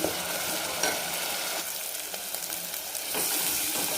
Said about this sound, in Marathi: दोन मिनिट फक्त परतून घेऊ तेल सोडायला लागलं की बंद करायचं आपलं परतणं